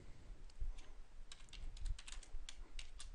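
Fingers tap a computer keyboard while typing text into a design program, quick irregular clicks clustered in short runs, close and fairly quiet with no talking.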